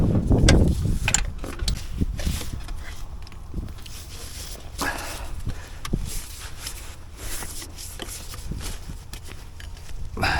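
On a 2007 Ford Ranger with a 3.0L engine, the serpentine belt tensioner is levered and released, giving scattered metallic clicks, ratcheting and clunks close by, irregular in rhythm and without any talk.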